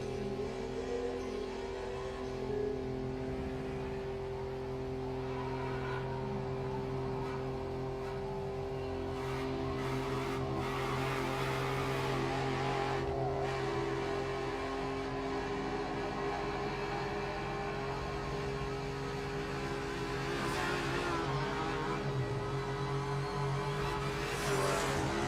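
Engine drone of a car cruising and revving in the racing game The Crew Motorfest on a Singapore road, a steady, continuous hum at even loudness throughout, with no talking.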